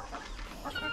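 A brooding hen on a farm giving short, low clucks, close and clear in a brief burst with no talk.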